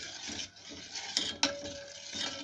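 A ladle stirring boiling milk in a pot: soft scraping swirls of metal against the pan, with a couple of sharp clinks, close and fairly quiet against a faint bubbling hiss.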